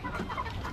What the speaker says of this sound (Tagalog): Shamu na manok.